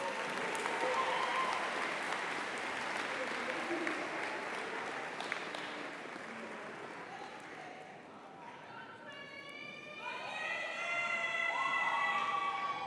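Applause from a graduation audience at Brown Deer High School fills the space as a steady, broad wash of clapping. Near the end it thins, and some higher tonal sounds come through beneath it.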